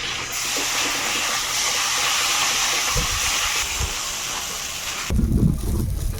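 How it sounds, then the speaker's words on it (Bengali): Warm water poured into a pan of semolina upma gives a loud, steady hissing gush. Near the end it drops into a deeper, bubbling rumble. No one speaks. "এখন আমি উষ্ণ গরম জল দিয়ে দেবো"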